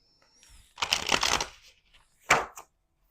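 Oracle cards are riffled in a quick burst, followed by a second short shuffle after a pause, crisp and close in a quiet room.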